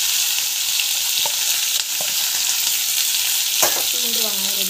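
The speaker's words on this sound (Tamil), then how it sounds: "அப்புறமா பூண்டு வெங்காயம் ரெண்டுத்தையும் வந்து ஆட் பண்ணிடலாம்." Garlic and onion frying in a pan, a steady broadband sizzle running throughout with occasional soft clinks of stirring, close and fairly loud with no talking.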